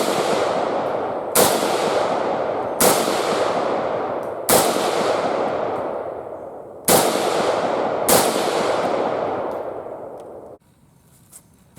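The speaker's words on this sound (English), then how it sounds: "now we're going to fire a couple rounds standing at 100 yards." Yugoslavian M70B1 AK rifle fired standing at 100 yards, six loud sharp shots spaced a second or two apart, each followed by a long echoing outdoor decay.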